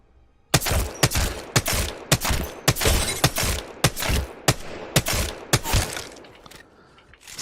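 Rapid bursts of gunfire from Apex Legends, about a dozen sharp, loud shots in an uneven rhythm with brief gaps, ringing close and alone with no talking.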